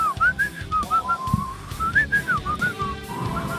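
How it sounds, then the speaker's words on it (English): An esports caster whistles a wavering, melodic tune up close, with gentle rhythmic tapping or bumps underneath. "Trust me, I can whistle."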